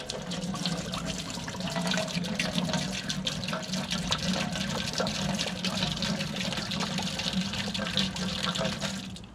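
Apple cider vinegar poured from a 32-ounce bottle into a cooking pot for Maryland-style blue crabs, a steady gushing liquid stream running unbroken and fairly close for the whole stretch.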